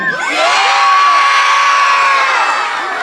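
A school-assembly crowd of children cheers at a BMX show with loud, sustained shouting and whooping that swells quickly and holds at full volume before easing slightly at the end.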